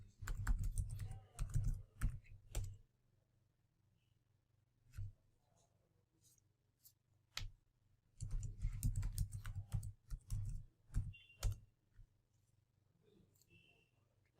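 Keys on a computer keyboard clatter in two short bursts of quick typing as a password is entered, separated by quiet pauses and a few isolated taps, close and clear with no talk.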